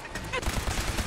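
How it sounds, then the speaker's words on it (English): Gunshots fire from above in Fallout 4, a quick run of loud, booming reports with heavy low thumps packed close together in a rapid burst. "more shots coming from the sky"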